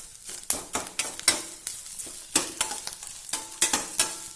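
Grated coconut roasting in a pan toward golden brown for a sambar chammanthi, heard as repeated stirring scrapes and soft dry sizzle in uneven bursts, close and fairly loud, with no talking.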